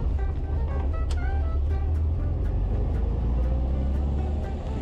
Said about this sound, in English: Riding in the Kombi, it seems to drive okay.